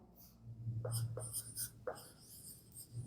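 Chalk or marker strokes on a board during a biology lesson, a few short scratchy bursts close by, quiet with no talking.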